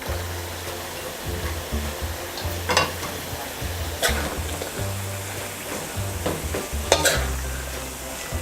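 Chicken gizzards with carrots and string beans are stirred in a pan for Filipino chopsuey, a continuous sizzle broken by scraping strokes and sharp spatula clanks against the metal.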